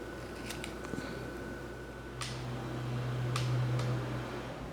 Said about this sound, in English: we're going to take a pair of scissors and cut it down the middle